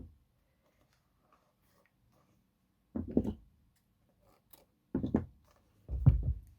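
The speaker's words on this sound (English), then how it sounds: "I'm going to cut the yarn and then cut the yarn on one end" Yarn being cut with scissors while making a chunky blanket: three separate short snipping crunches spaced a couple of seconds apart, close and clear over near silence.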